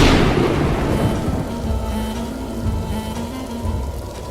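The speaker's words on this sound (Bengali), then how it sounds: "যেভাবে বাজ পড়ছে" Heavy rain pours steadily at night with a loud thunderclap at the start whose rumble rolls and fades over the downpour, continuing alone without voices.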